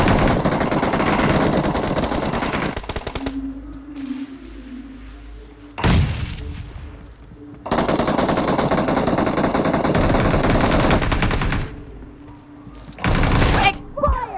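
Video game gunfire in BGMI (PUBG) comes in loud bursts of rapid automatic shots that stop and start, separated by quieter gaps, with a player talking at points.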